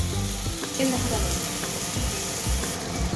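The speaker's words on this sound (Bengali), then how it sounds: "এই যে মশলাটা ভীষণ ছিটোচ্ছে" Spice masala spits and crackles hard in hot oil while being sautéed, a dense close sizzle with a few stirring knocks over its three seconds, and a voice speaks faintly beneath the frying.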